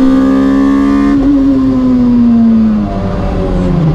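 A 2ZZ-swapped MR2 Spyder race car runs off track during a time attack after understeering on cold tyres. Its engine drones loud and close, the pitch slowly dropping as it slows, with no voices.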